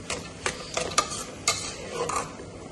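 A spoon stirs thick Arabic-style harees soup in a pot over a slow fire, giving a series of scraping, clinking strokes against the pot with a soft sizzle underneath.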